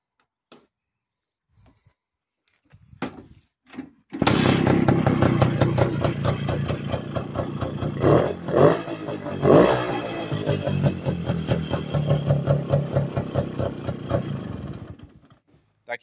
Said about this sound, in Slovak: Motocykel má funkčné brzdy, má funkčný motor, ktorý není problém naštartovať